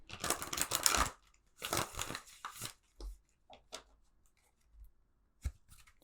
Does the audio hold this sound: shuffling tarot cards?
yes